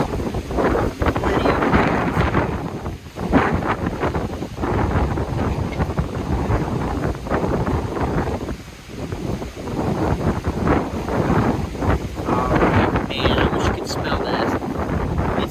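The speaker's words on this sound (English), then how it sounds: "Plenty of windy out here" Gale-force wind buffets the microphone at a campsite in a loud, continuous rumbling roar that gusts and dips throughout.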